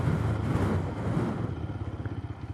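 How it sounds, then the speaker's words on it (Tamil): A TVS Apache RTR 160 4V motorcycle braking hard with the rear brake from 50, its engine and road noise dropping away as it slows to a stop, with no talk. "ஸோ 50 என்ற ஸ்பீடில் வச்சு ரியர் பிரேக் அப்ளை பண்ணி காட்டுறேன்."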